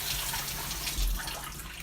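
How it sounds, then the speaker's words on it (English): Tap water running steadily while tomatoes are rinsed under it in a kitchen sink, a continuous hissing splash at moderate level with no talking. "All you got to do, rinse off the tomatoes."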